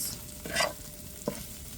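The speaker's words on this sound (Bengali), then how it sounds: "ধনে পাতা দিয়ে লাড়াচাড়া" Little lote fish, fried crisp, stirred in a hot pan with coriander leaves: a steady sizzle under two scraping stirs of a spatula, close and moderately loud, with no talking.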